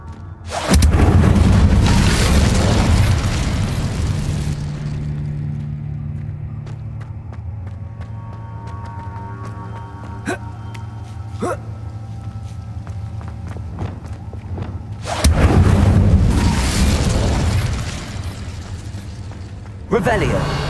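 Incendio fire spells in the video game Hogwarts Legacy burst out as two heavy, rumbling booms, one at the start and one near the end, with quieter game sounds and faint clicks between them.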